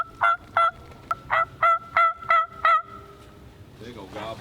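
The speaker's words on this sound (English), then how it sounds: "That's a big old gobbler too, man." A big wild turkey gobbler calls outdoors in a rhythmic series of about eight sharp, loud calls, followed by quieter rustling and a faint trailing call.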